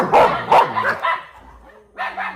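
A village dog in Kerala barks at an elephant, giving a few sharp close barks followed by a shorter yelping burst, with no speech.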